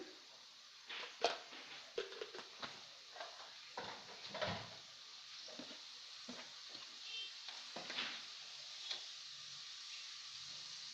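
Prawns frying with turmeric powder in a home kitchen pan: a steady close sizzle with repeated spatula scrapes and clinks across the pan, no voices.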